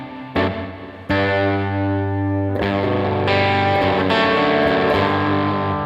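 Electric guitar through a Headrush pedalboard with a church reverb preset, distorted chords struck in several strong strums, each ringing out into a long, dense wash of reverb, loud and close with no talking.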